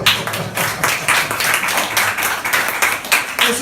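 A church congregation gives a round of applause during a Spanish sermon, loud, close rhythmic clapping in quick bursts that keeps a steady beat throughout.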